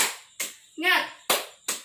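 A class of elementary school children performs the Indonesian "tepuk semangat" clapping chant, sharp group claps alternating with a short chanted word in unison, close and lively in a classroom.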